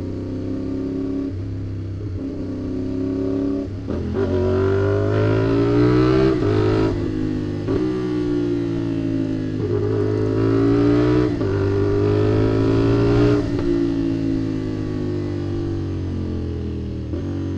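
A motorcycle engine revs repeatedly and loudly up close, with rising and falling pitch sweeps as the throttle is opened and released, holding a strong steady drone between revs.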